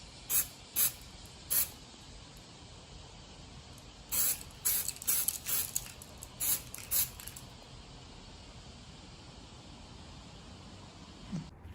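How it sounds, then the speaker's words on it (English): Air spray gun painting the body of a Mercedes-Benz W113 car: short, sharp hissing bursts, three quick ones, then a tighter run of about six after a pause, close and distinct over a quiet background. "Next, I sprayed the paint on with an air gun."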